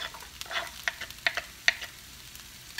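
Half a green pepper sautés in a pan, giving a soft, low sizzle broken by a few sharp ticks and pops, faint and without talk.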